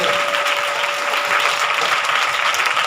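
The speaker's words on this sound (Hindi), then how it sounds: "सबका मोबाइल ऑन करके थोड़ा ताली बजा सकते हैं" Applause from a church congregation at a Hindi service, steady dense clapping from many hands throughout, loud and continuous with no pauses.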